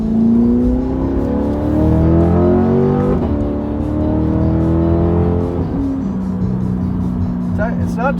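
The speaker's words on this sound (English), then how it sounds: "Bit more burbles, bit more pops, definitely on the downshifts." A C8 Corvette fitted with a LeMans Edition exhaust, heard from inside the cabin, drones and revs loudly under hard acceleration, pitch climbing and dropping through gear changes, with a few faint crackles late on.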